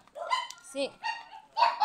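Several dogs barking in short bursts, some yips and whimpers mixed in, fairly close, with a person talking over them.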